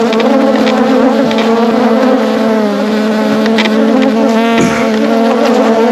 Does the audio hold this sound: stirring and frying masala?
no